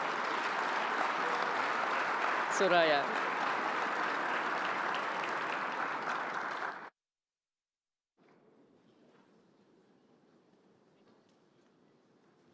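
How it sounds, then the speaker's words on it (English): Audience applause fills the opening ceremony of a fintech forum in Kigali, loud and sustained for about seven seconds, then cuts to near silence before a faint room tone with a voice returns. "So please, a round of applause."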